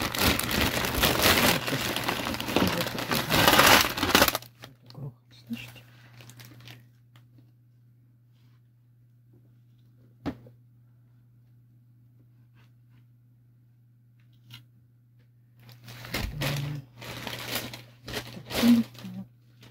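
Wrapping of a parcel of costume jewelry crinkles and rustles loudly at the start, then falls quiet apart from a low steady hum and one faint tap, before more bursts of crinkling near the end.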